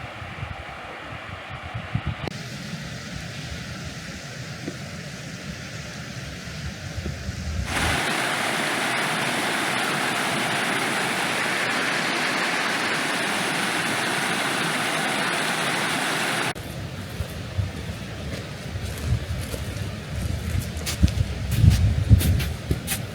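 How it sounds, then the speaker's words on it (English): A giant waterfall beside a snowy mountain lake gives a loud, steady, broadband roar that fills the middle stretch. Quieter outdoor ambience and crunching, sloshing footsteps in snow come before and after the roar, and no one speaks. "There's a giant waterfall here, which is epic. You can hear it as I slip and slosh around the snow."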